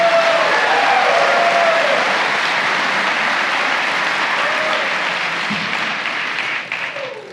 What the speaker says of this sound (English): And then one more round of applause for Chief Higdon